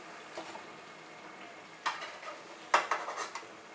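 Fried palm pithas lifted from hot oil and dropped into warm sugar syrup, a few close clinks of a utensil against a pan over a quiet kitchen background.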